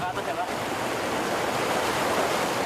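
The water of the Banyu Putih river near Ijen flows with a steady, broadband rush. The sound is close and continuous, with no pauses, and may include some wind noise against the microphone.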